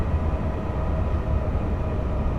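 A Class 390 Pendolino train passes on the West Coast Main Line south near Milton Keynes in On Track Simulation, heard as a steady, loud low rumble and rolling rail noise that holds evenly throughout with no talk.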